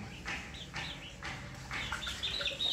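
Young gamecocks and chicks, five-month-old stags and baby stags near two months old, cluck and peep close by in a freshly cleaned pen, with a steady run of short overlapping calls throughout.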